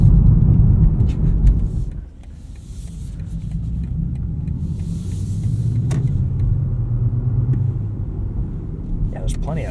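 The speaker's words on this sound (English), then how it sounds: "Kind of sounds like a 4-cylinder, like the noise that it puts through an EV mode." A 2025 BMW M5 plug-in hybrid cruising in electric mode gives a low, steady rumble with road noise inside the cabin, dipping briefly before holding even again.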